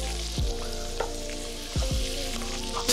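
Meat browning in a hot frying pan for red beans and rice, a steady loud sizzle and crackle with a few brief stirring clatters, no talk.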